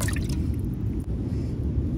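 Water splashes and gurgles while a freshly caught fish is rinsed at a campsite, a close, low, continuous wash with small drips.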